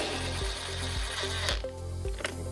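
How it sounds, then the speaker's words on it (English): A power driver runs screws in while mounting an amplifier on a 2024-2026 Harley-Davidson Street Glide Ultra, giving a steady close whirring hum with brief rhythmic clicks as the screws seat. "I like to start by putting these 2 screws in first"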